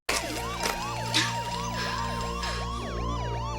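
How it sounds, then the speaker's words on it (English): A wailing siren rises and falls in quick repeated sweeps, with a second siren layered over it, fairly distant over a steady low hum. "sirens wail in the distance"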